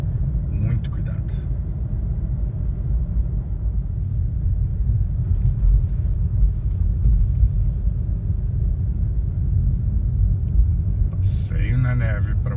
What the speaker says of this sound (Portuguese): Bem complicado de dirigir na neve, gente.